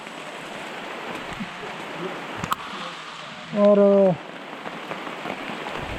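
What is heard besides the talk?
heavy rain falling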